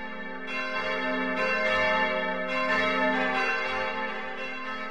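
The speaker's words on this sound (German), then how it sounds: "Hier ruft eine Kirchenglocke ihre Gemeindemitglieder in Hörweite zur Versammlung." A church bell rings with a few full, resonant strikes whose long humming tones overlap and sustain, loud and steady throughout.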